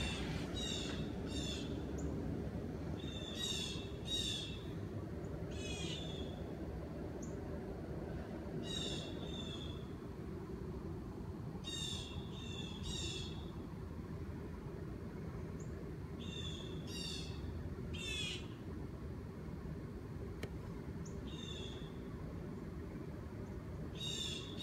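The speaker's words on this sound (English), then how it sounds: "I just thought I'd let you hear our little bird sanctuary out there" Several birds chirp and trill in short bursts over a steady low outdoor rumble, fairly distant and quiet, with no talking.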